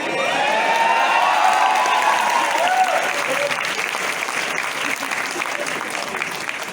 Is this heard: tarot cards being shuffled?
no